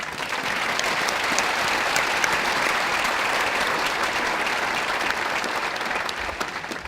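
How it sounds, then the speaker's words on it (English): An audience at a law school hooding ceremony applauding an award recipient, sustained even clapping from a large crowd filling the hall throughout. "we could probably all applaud one more time"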